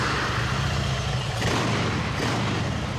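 An Arch motorcycle engine rumbles loud and close with a deep, throaty growl under heavy broadband roar, surging once mid-way as the throttle is blipped, with no talking.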